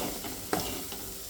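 Potato filling for vada pav being stir-fried with salt, turmeric and curry leaves: a short spatula scrape and clink over a soft, steady sizzle, heard up close.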